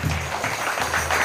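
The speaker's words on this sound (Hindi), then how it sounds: "जोर से ताली बजाइए एक बार परमेश्वर के लिए" A church congregation claps loudly together in praise during a worship service, a dense, steady burst of hand-clapping lasting a moment.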